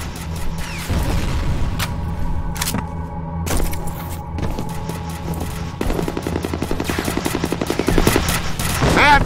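Rapid bursts of automatic gunfire and a heavy grenade blast fill a firefight in the shooter game F.E.A.R., with fast rattling volleys building toward a sustained stream near the end, loud and close.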